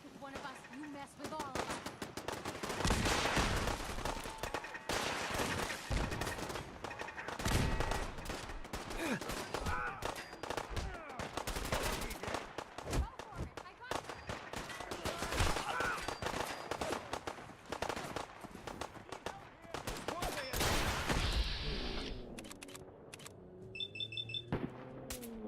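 Dense, loud gunfire from a super mutant attack in a very hard Fallout-style video game, automatic bursts and single shots rattling almost continuously for about twenty seconds, with alarm-like tones near the end.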